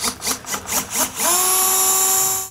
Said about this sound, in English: So I'm going to go ahead and drill this out.